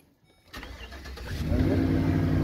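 A 2014 Chevy 3500 truck engine cranks briefly and catches, then settles into a steady, close mid-pitched rumble that builds slightly after starting.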